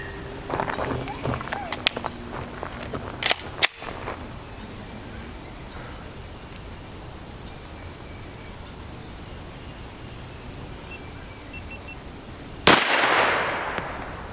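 Sharp, loud 9x19mm special threat rounds strike a Highcom Guardian STP Level IIIA armor plate at an indoor range. Several impacts cluster near the start, then a long quiet stretch follows before one final loud crack.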